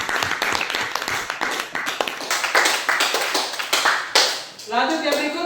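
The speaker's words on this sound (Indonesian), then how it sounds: "Kita tepuk tangan untuk ini." A classroom group claps together for a moment, a dense patter of hand claps at close range, blending with murmuring voices before a speaker's voice resumes near the end.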